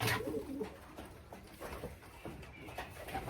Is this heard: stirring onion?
no